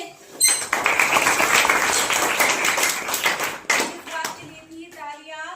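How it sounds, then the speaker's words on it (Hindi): Schoolchildren at an eco club reorganisation event in a school clap together in a loud, close burst that carries on for several seconds before trailing off into scattered claps and faint voices. "तो सब बच्चे तालियां बजाएंगे।"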